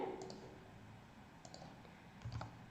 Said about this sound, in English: I am just clicking this run button.